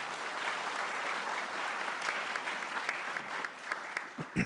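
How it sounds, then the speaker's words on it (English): A crowd at a Democratic gubernatorial forum in Georgia gives a sustained round of applause, dense steady clapping that thins into a few last scattered claps. "Let's give them a huge round of applause."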